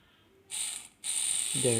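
A small 12V DC motor runs after being reassembled, giving a high, thin electric whine that starts, stops briefly, then starts again and holds steady, with a faint low buzz near the end.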